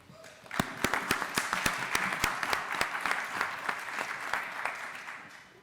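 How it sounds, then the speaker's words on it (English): An audience at an Arctic art summit session applauds the moderator. Some sharp individual claps come first, then sustained dense clapping that fades at the end. "So a round of applause for our moderator."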